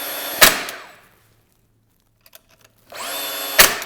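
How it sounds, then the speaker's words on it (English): A pin nailer fires into freshly glued wood pieces for a guitar display case, giving two sharp, loud pneumatic shots about three seconds apart, each with a brief hiss of air and quiet between them. "Once we're glued up, we'll just pin nail it."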